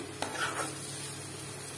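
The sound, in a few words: frying tomato in spice paste, stirring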